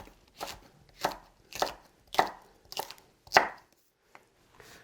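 Knife chopping two Cheongyang chili peppers into rounds on a cutting board: six crisp, evenly spaced chops close up, followed by a couple of faint softer taps, with no voices.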